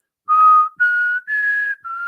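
A person whistles four clear sustained notes in a row, imitating a whistle, close and loud with short gaps and a slight rise in pitch across the phrase.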